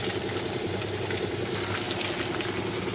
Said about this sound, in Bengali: দেখো মাছ ভাজা বসিয়ে দিয়েছি